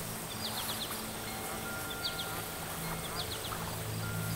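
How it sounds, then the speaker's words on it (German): Duck quacking from the reeds at the edge of a lake, several short quack bursts at a moderate distance over a constant background with birds and insects. "aus dem Schilf, hört er etwas. Ein Quaken."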